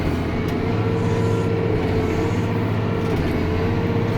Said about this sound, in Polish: Biegi ciągnik zmienia bardzo poprawnie przejście między zakresami jest płynne ciągnik nie zwalnia